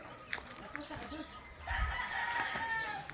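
A rooster crows outdoors at close range, with a long drawn call in the second half, while voices talk nearby and other faint bird noises appear earlier.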